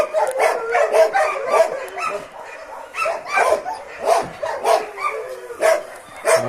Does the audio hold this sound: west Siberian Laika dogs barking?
yes